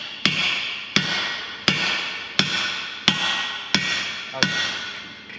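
A hammer strikes a bolt on the blade center joint of a John Deere 450G dozer seven times at an even pace, each blow a sharp metallic clang that rings briefly, close and loud.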